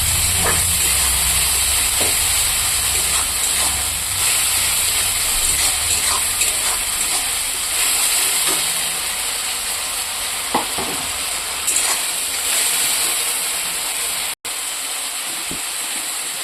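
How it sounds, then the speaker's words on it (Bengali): Tengra fish frying in hot oil: a loud, steady sizzle and hiss that runs throughout with occasional small pops and spatters, broken by one very short gap near the end. "আমি ভাজবো।"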